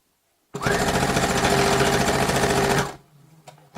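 Loud sewing machine stitching in one steady burst for about two seconds, then stopping, with faint clicks afterward.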